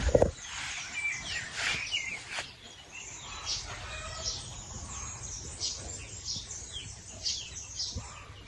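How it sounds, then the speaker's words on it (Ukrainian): Birds sing in a village on a fresh morning after rain, scattered chirps and short calls at moderate distance over a quiet outdoor background, with no speech. "Послухайте, як пташки співають."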